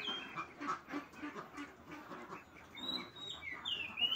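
Ten laying ducks quack in a continuous, overlapping chatter, faint and somewhat distant, with no clear talk over it.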